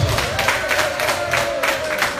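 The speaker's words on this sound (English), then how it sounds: "Please give them a good round of applause" Applause from an audience for the first and second vice chairs of KANU at a forum for African, Afro-Caribbean and Asian women in politics, steady and continuous at moderate loudness with a faint background tone.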